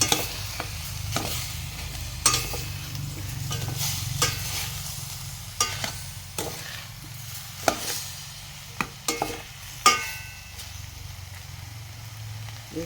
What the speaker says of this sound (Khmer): ឲ្យខ្លោចឆ្នាំងថែមស្ករកូរវាឲ្យសព្វ